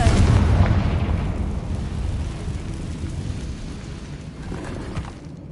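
A Confringo fire spell bursts loudly in Hogwarts Legacy, a booming blast right at the start that rolls off into a long, fading, thunder-like rumble.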